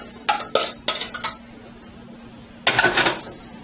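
Pastry cream tipped and scraped out of a pot into a shallow cookie sheet pan, giving a few short clanks and scraping knocks of utensil on metal, a pause, then a denser cluster of scrapes, close and without talk.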